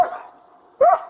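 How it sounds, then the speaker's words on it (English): A dog barks inside a car during a tense roadside stop, one sharp close bark after a lower whimpering growl, short and loud. "Put the dog away"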